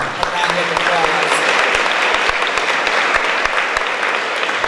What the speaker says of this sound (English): Please give Rico a round of applause.